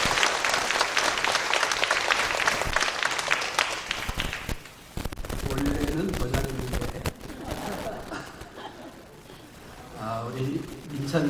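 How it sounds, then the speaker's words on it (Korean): A church congregation gives applause to the glory of God during a pastor's installation thanksgiving service, with dense clapping for about four seconds before it thins out, followed by someone speaking over a hall. "하나님께 영광 박수 올리겠습니다."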